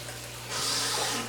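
Cup of water poured into a hot electric skillet cooking burgers, a sudden rushing splash and sizzle that starts partway through and continues steadily, loud and close.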